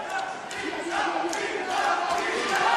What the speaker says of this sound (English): Crowd chanting for Binda's name.